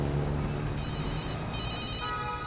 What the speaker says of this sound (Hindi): किसका फोन है सर?